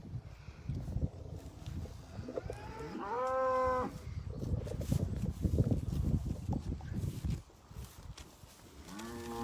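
Dairy cows on a Cornish farm that supplies milk for Kern cheese moo in a field, with two long, drawn-out lows close by and a third starting at the end over a low outdoor rumble.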